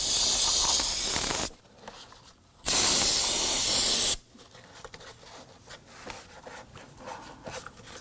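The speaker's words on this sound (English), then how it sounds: "we want to give it a quick spray with some solvent and clean up that connection area" Two loud bursts of solvent cleaner hiss from an aerosol can onto an electrical connector on a 2003-2014 Volvo XC90, each spray lasting about a second and a half, followed by quiet handling noises.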